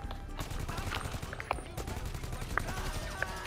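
Bursts of gunfire crackle through a firefight during a Cayo Perico heist in GTA 5 Online, a steady rattle of rapid shots with a few sharper cracks standing out, loud and continuous across the scene.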